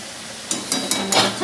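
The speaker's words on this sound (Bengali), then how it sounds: "এখানে আমি ঢেঁড়স রান্না হচ্ছে" Okra cooking in a pan, a soft background sizzle broken by several short scraping stir strokes of a spatula against the pan.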